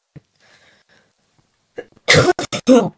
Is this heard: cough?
yes